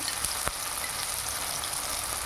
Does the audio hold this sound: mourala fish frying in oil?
yes